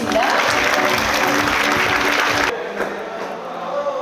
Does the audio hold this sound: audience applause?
yes